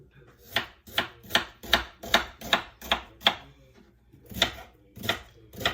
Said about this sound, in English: I'm just taking my onions and I'm going to go ahead and give these a quick little chop